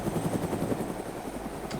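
A helicopter flies in the DayZ video game, its rotor chopping in a fast, steady rhythm at moderate distance, fairly loud and alone without voices.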